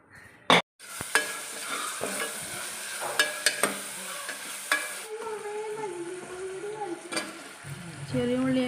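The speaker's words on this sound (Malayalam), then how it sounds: "ഇനി ഇത് അടുപ്പത്ത് വെച്ചിട്ട് വെളിച്ചെണ്ണ വെച്ചിട്ട് തൂമ്പിക്കണം" Crushed bird's eye chillies fry in coconut oil in a pan on the stove with a soft, continuous sizzle, broken by scattered clinks and scrapes of stirring and a few sharper knocks, heard close with no talk.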